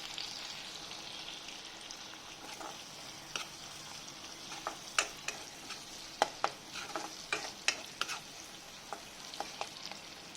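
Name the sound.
onions frying in a pan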